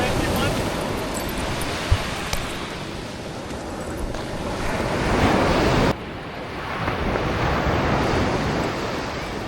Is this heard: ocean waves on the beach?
yes